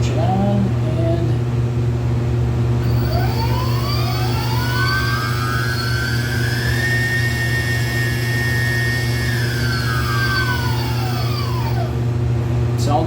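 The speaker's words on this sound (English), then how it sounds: "So let's switch over the connections and check out our motors, see if they work or not." Twin electric motors driven by new ESCs on a homemade river-tube power unit whine up smoothly in pitch, hold a steady high tone, then wind back down, over a constant loud hum.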